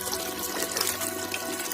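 Water is collected from a stream, giving a close, continuous splashing and gurgling that runs steadily through the short moment without speech.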